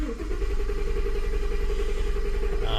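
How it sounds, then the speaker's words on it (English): A car engine cranks steadily with the accelerator held to the floor and does not start, a continuous even churning close by with no voices. "you hold the accelerator all the way to the ground and make sure it goes all the way. Then you turn the engine over"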